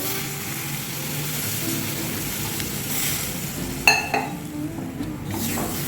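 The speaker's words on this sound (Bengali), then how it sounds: "জল ঢেলে দিচ্ছি এতে" Water poured into a hot pan of cooking leafy greens: a steady sizzle and frying hiss, then a sudden clatter and burst of spitting as the water hits, settling back into a softer bubbling.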